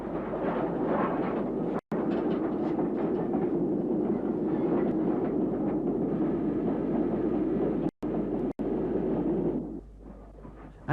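A former LMS Hughes-designed 2-6-0 "Crab" steam locomotive of 1926 runs past with a steady, loud rumble and rhythmic rail clatter, briefly cutting out, then easing off as it recedes.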